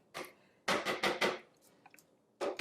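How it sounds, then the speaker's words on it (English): A spatula scraping down the plastic bowl of a Cuisinart DFP-14BCNY 14-cup food processor, a few short, close, raspy strokes in quick bursts separated by brief pauses. "We're going to stop and just scrape down the bowl."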